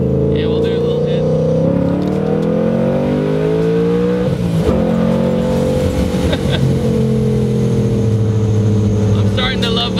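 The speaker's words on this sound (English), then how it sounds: "stock motor, stock intake manifold with a Paxton supercharger on it. And we'll do a little hit." A stock-motor Ford Mustang with a stock intake manifold and a Paxton supercharger, running on E85 and making around 700 hp, roars loud and close, its engine pitch swelling and easing through a sustained rev.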